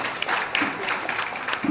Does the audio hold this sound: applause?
yes